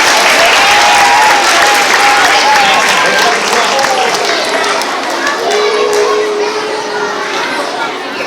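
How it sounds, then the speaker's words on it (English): Loud, continuous applause fills a school gathering for first grade students, with children's voices and cheering chatter mixed into the clapping throughout. "a big round of applause for our first grade friends"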